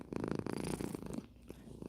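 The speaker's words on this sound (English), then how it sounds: "Yeah, the purrs. I love the purrs." A cat purrs close and soft in a rhythmic rumbling pulse that fades slightly toward the end.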